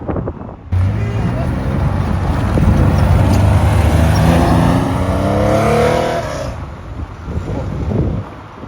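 A Porsche Carrera RSR 2.8 race car driving along a Paris street, its engine loud and revving with rising gear pulls, close and steady, fading at the end, with wind buffeting the microphone.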